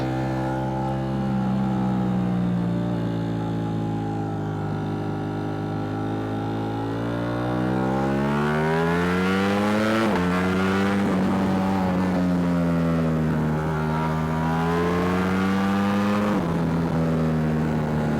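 A Ducati Streetfighter V4S sport motorcycle engine revs and accelerates loudly up through the gears in sport mode, pitch climbing and dropping with each shift, close and continuous.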